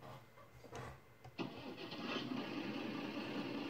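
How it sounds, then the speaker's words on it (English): Fiatagri 180 tractor engine starting in Farming Simulator 19, heard from inside the cab: a few cranking bursts, then the engine catches and settles into a steady, fairly quiet idle. "So let's see what the tractor sounds like from the inside."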